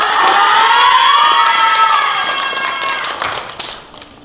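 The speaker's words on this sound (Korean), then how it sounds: "홍익인간 전성빈 학생에게 큰 박수 부탁드립니다" An audience at a youth character-education camp project presentation contest breaks into loud applause and cheering for a student presenter, a dense burst of clapping and shouts that fades out over a few seconds.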